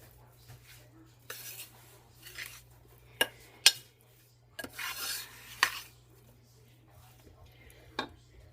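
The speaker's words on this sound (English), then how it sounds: "And I'm going to kind of give that a little stir" A spoon stirs beef stew with a teaspoon of Worcestershire in a crock pot slow cooker, giving intermittent scrapes and metallic clinks against the pot with a steady low hum beneath.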